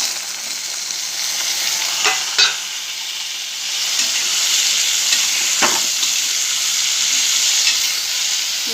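Washed cauliflower fries in a hot pan with a loud, steady sizzle, and a few stirring scrapes and clinks break through the constant crackling hiss.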